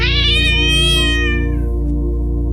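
A cat lets out a loud, drawn-out wailing meow, rising and then fading, close to the microphone and alone.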